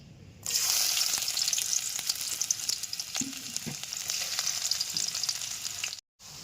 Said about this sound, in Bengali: তেল গরম হয়ে গেছে দিয়ে দেবো পেঁয়াজ কুচি